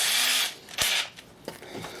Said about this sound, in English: using a handy dandy step drill bit, you know, you can pick those up pretty much anywhere nowadays.